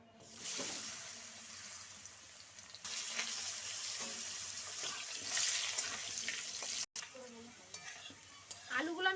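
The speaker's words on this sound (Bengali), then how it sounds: "এবার আমি এই মাছ ভাজার তেলের মধ্যে আলুগুলো ভেজে নেব দিয়ে দিচ্ছি আলু" Potato pieces frying in leftover oil from frying rohu fish, a moderate continuous sizzle with scraping and stirring sounds, briefly cut off near the end, then resuming.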